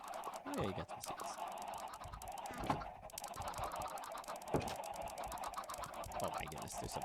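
Many Minecraft chickens gathered in an enclosure, a chorus of clucking and squawks with a few sharper calls standing out, steady and fairly close, faint speech mixed in.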